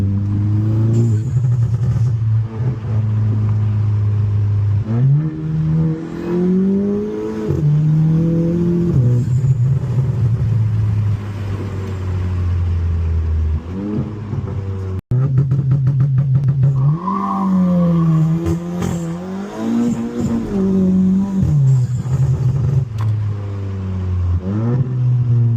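A Volkswagen MK7 GTI engine revs and accelerates through repeated gear pulls, its tone climbing, dropping at each shift and climbing again, loud and close from inside the car with no talking.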